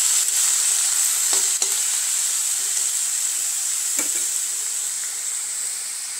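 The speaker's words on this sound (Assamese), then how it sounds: "এতিয়া মই গোটেইখিনি ভালদৰে মিহলাই 2 মিনিটমান ভাজি ল'ম।" A paste of ginger, garlic and tomato fries in hot oil with a steady, loud sizzle. A spoon knocks and scrapes in the pan a few times as the mixture is stirred.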